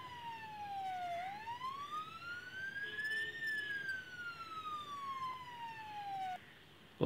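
An ambulance siren in the city-building video game Theo Town wails in slow rising and falling sweeps, sounding clear and moderately loud over faint city ambience, and cuts off abruptly near the end.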